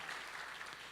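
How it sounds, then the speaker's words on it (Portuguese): Brief, faint applause from a church congregation during a sermon, a soft distant wash of clapping lasting under a second. "Dê um aplauso a Ele"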